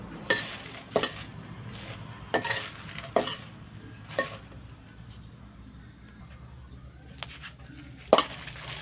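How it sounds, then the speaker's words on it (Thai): Dried chilies are dry-roasted in a pan for northern Thai larb spice, with a utensil stirring them. Sharp scrapes and clinks come at irregular intervals over a quiet background hiss. "อันนี้คั่วพริกก่อนครับ"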